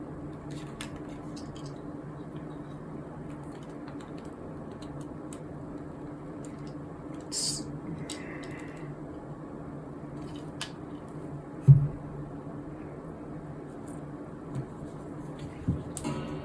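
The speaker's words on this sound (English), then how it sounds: "And just plug this pump in. We'll see if it actually pumps." Small PC water cooling pump running after being plugged in, pushing water through tubing: a faint steady low hum with occasional clicks and taps, no talking.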